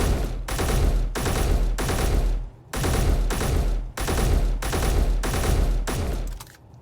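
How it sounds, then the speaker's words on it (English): Rapid bursts of explosions and crackling fire from a hydrogen tank blowing up in the Space Engineers video game, loud repeated blasts separated by brief gaps. "That's a hydrogen tank there. So at some point, this is gonna explode, hopefully to some really nice fireworks."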